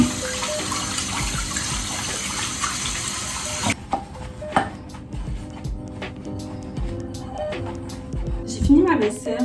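Tap water runs steadily into a kitchen sink while dishes are washed, a loud hiss that cuts off abruptly partway through, followed by clinks and handling noises.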